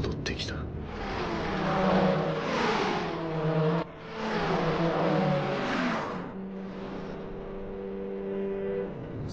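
A Nissan Z sports car engine revs hard in two long rising and falling surges with a brief shift break between, then settles into a steady high whine, loud and close, with a voice in the background.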